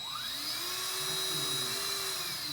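A steady, thin electric whine of a simulated drill on a Ford Meter SIMTAP set to its lowest setting, continuous and close, with a faint lower hum beneath.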